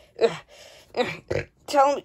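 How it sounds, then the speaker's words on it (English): Burp let out in the middle of a sentence by one of several friends crowded around a couch, brief and close, sitting among speech as people talk. "Did you just burp?"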